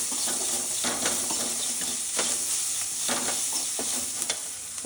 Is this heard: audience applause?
no